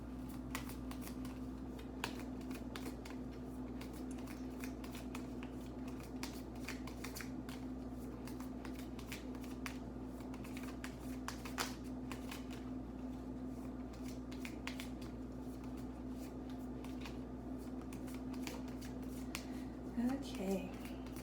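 A deck of tarot cards is shuffled by hand in a quiet room during a reading, giving faint, continuous riffling and soft card taps over a low steady hum.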